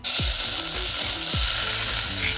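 Shrimp paste fries in a little oil in a saucepan over low heat, a close, even sizzle with a few sharp knocks of a utensil against the pan.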